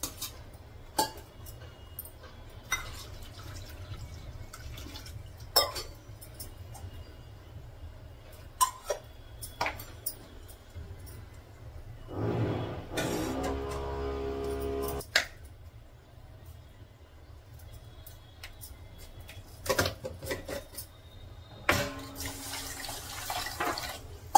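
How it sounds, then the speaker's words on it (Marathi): Rice is rinsed in clean water at a kitchen tap, heard as scattered clinks and splashes, with a short burst of running water near the middle and another toward the end. No voices. "आता हे सगळं मी धुवून घेते स्वच्छ पाण्याने."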